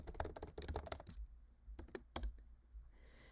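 Fast keystrokes on a computer keyboard while entering Git configuration commands, a dense burst of clicks followed by a pause and two more isolated taps, close and fairly quiet.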